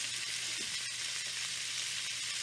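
Italian sausage sautés in a pan with a steady, close hiss of sizzling fat that holds even throughout, with no talking.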